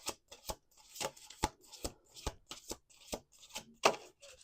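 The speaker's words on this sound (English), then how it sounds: "Let's do two more shuffles." Tarot cards are shuffled by hand in a quiet room, giving a string of crisp, close riffling snaps and slaps at an uneven rhythm, roughly a dozen distinct bursts.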